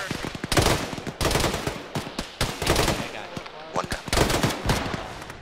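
Rapid bursts of automatic rifle and machine-gun fire in an Arma military game session, loud and close, in stuttering volleys separated by short pauses, with voices speaking over parts of it.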